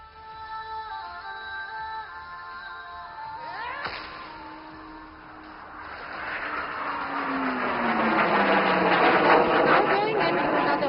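A military jet flies a loop along the runway at the Aero India flying display, its roar swelling from a distance and building to a loud, sweeping rush with a falling pitch near the end.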